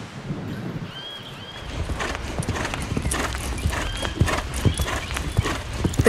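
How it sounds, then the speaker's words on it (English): A seven-year-old show mare's hooves clip-clop steadily on hard ground, close by, with a brief neigh and wind noise in the outdoor background. "The breeder proudly presents one of his show horses, the 7-year-old mare aptly named Blood from the Heart."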